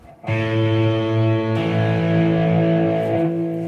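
Two guitar strings strummed together, ringing as a sustained chord with a second strum about midway; no talking.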